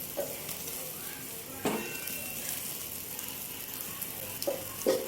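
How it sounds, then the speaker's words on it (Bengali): Prawn kebabs frying on a hot tawa give a steady close sizzle, broken by a few scraping stirs of a utensil against the pan. No one speaks. "ভাজতে দেখো হয়ে গেছে এটা"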